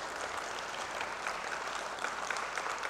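Sustained applause from an audience after a piano duet performance, a dense steady patter of many hands clapping throughout, with no voices standing out.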